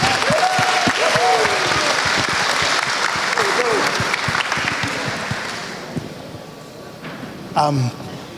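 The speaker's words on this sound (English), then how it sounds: "Can we give him a round of applause, please?" Crowd applause and some cheering for the groom's father at a wedding reception, full and sustained for several seconds with voices calling out over it, then fading to scattered claps before a brief loud vocal outburst.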